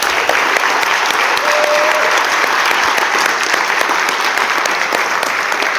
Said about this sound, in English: Can we give another round of applause for our panelists?